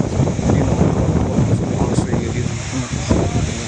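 Strong, continuous tornado wind roars and buffets close to the microphone outside village homes in Kampung Citawa on a Saturday afternoon, with a dense rumble throughout.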